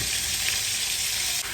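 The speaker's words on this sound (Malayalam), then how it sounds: "ചൂടായ എണ്ണയിലേക്ക് നമ്മൾ മീൻ ഇട്ട് കൊടുക്കണം" Fish pieces sizzle in hot oil in a pan for fish moilee, a loud, steady close-up frying hiss that runs without a break and dips briefly right at the end.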